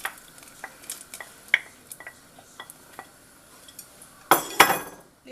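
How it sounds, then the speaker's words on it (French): Diced potato cubes go into a pot of boiling water in a home kitchen: light clinks of a utensil against the pot, then a louder rattling tumble and splash as the pieces drop in. "On ajoute les petits carrés de pommes de terre."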